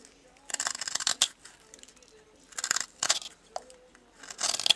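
A knife carves a small wooden feather, giving bursts of crisp scraping cuts separated by pauses, close up and fairly quiet.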